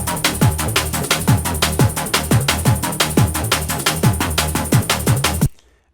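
Phase Plant synth arpeggio running over a drum beat, with steady kicks and rapid repeating synth notes in a driving loop, loud and close, stopping abruptly near the end.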